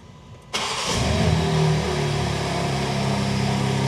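A BMW G80 M3 cranks and fires up after a quiet moment, bursting into a loud, close rev that swells and then settles into a steady, throaty idle.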